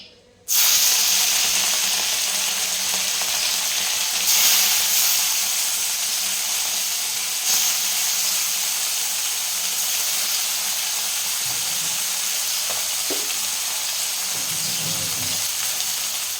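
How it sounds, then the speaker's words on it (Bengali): Steady, loud hissing sizzle of mourola fish frying in hot mustard oil in a kadai, a broad crackling wash that starts abruptly and continues unbroken, with faint clinks underneath. "তেলটা গরম হয়ে গেছে এবার মাছগুলো দিয়ে দেবো"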